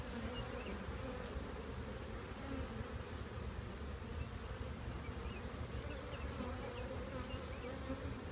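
Honeybees on about seven hive frames during a trap-out from a radio tower, a queenless colony given a food frame, hum in a steady, close, even buzz with no talking.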